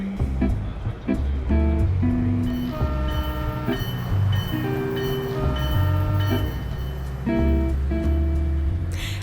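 A long-distance passenger train running from San Francisco to New York pulls out of a station, with steady rumbling, layered horn-like tones and mechanical noise sustained and loud throughout.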